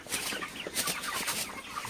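Broiler chickens, 34 days old, on a small farm at dawn, a soft murmur of overlapping clucks and low calls from a flock, moderately near and fairly steady.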